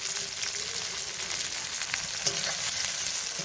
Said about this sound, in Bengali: পেঁয়াজটাকে লাল করে একদম ভেজে নিতে হবে।